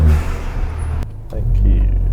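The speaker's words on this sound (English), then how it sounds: "just give it a little tap on the throttle" A Ford Fiesta ST fitted with a Milltek exhaust blips its throttle, a short loud rev rising over the engine rumble with a voice talking over it, heard from inside the car at night.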